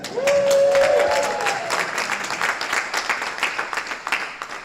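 Spectators at a tennis semifinal cheer and applaud, a whoop and whistle riding over a steady wash of clapping that gradually thins into scattered claps.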